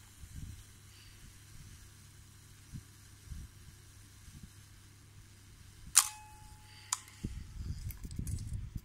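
Nikon FE film camera firing its self-timer and shutter release: a sharp mechanical clack, a short steady whirring run, then a second crisp click, followed by low handling rustles. Close and alone, with no talk.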